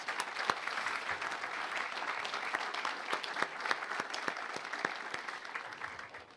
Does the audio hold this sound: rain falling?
no